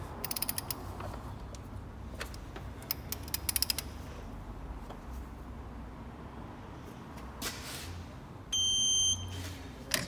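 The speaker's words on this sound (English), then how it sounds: "So now, I'm going to torque this up to 20." A torque wrench ratchets a bolt tight to 20 newton meters on a BMW Mini N-series engine during timing chain work, with rapid clicking bursts and creaks, then a sharp electronic beep as the setting is reached.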